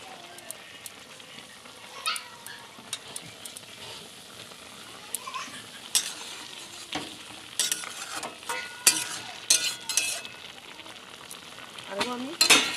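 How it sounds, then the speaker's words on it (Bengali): Potatoes and chopped green banana cook with thankuni leaves in a pan, giving a low sizzle and bubbling under repeated scraping stirs that grow busier toward the end, close and moderately loud. "আমি এখন থানকুনি পাতাটা দিয়ে দেবো।"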